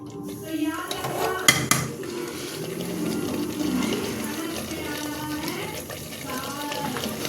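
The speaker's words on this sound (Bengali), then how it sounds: "এবার আমি জল দিয়ে দেবো তলায় লেগে যাচ্ছে তো" Water is poured into a pot of mutton curry that is catching on the bottom, a splashing gush mixed with clattering metal utensils, while a voice talks over it.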